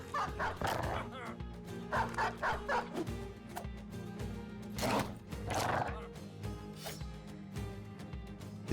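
Dog barks and snarls in an attack within the video game Battle Brothers, several sharp bursts over a steady game music bed, with combat effects mixed in.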